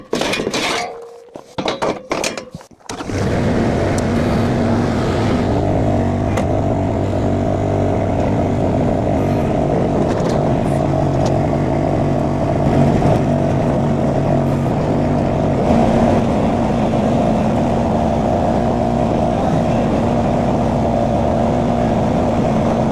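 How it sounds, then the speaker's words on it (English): A mini skid steer digs clay off a cliff in the West Texas desert: a few sharp clanks at first, then a loud, steady close engine drone that holds for the rest. "I'm gonna unload the mini skid and I'm gonna start taking clay off the cliff."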